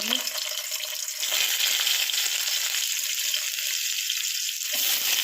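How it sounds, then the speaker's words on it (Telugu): Egg frying in hot oil with cumin seeds in a home kitchen pan gives a steady, close, bright sizzle that runs throughout, dipping slightly partway through and then swelling again. "ఆయిల్ పెట్టుకొని జీలకర్ర వేసుకున్నాను ఇంకేమీ లేదు ఎగ్ వేసుకున్నాను"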